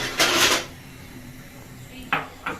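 A metal wok set down on a stove for frying chicken: one clanking scrape near the start, then two short metallic knocks a moment later, close and moderately loud.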